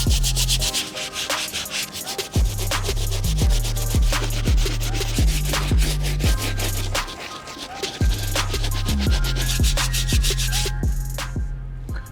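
Medium bristle brush scrubbing the midsoles of a trashed Air Jordan 11 Concord sneaker, with rhythmic back-and-forth rubbing strokes, steady and close throughout.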